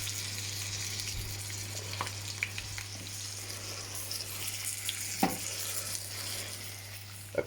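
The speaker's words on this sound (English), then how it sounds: "you want to put these in the pan now. Fry them off. There's a bit of sizzle in there" Apple pieces fry and sizzle in a pan for a tart or tarte tatin, giving a steady close hiss with a few sharp crackles and pops scattered throughout, and no talking.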